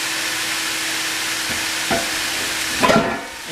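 Chicken thighs frying in a pan with a steady, bright sizzle throughout, broken by a couple of brief stirring scrapes and a louder clatter near the end.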